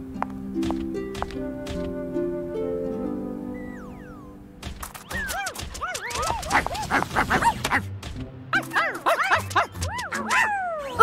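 Cartoon dogs bark and yip in quick overlapping bursts over an animated children's show soundtrack, starting with a gentle musical passage before a lively run of repeated barks and whimpers.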